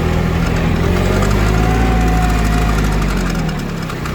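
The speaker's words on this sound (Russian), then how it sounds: "Вот, собственно, такой трактор Hinomoto CX-16, он же Kubota Aztek" A Hinomoto CX16 mini tractor, also sold as the Kubota Aztek A16, runs with a loud, steady diesel rumble and chugging vibration close by, continuous throughout without talk.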